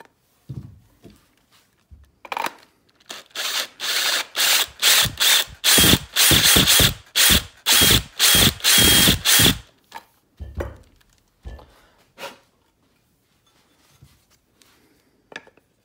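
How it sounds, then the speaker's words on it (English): A step drill bores into a Remington 1100 gun stock in bursts of grinding, ratcheting mechanical noise. A run of regular pulses sits in the middle, with quieter scrapes and knocks before and after. "I took the step drill to it."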